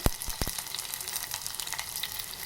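Cumin seeds, about a spoonful, hit hot oil in a home kitchen pan while cooking ridge gourd, giving a steady close sizzle with a few sharp clicks and pops at the start, no talking.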